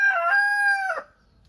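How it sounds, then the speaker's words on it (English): A rooster's loud, close crow, one sustained call that holds steady and then drops off sharply at the end, followed by quiet. "there are just so many roosters. They shout over each other."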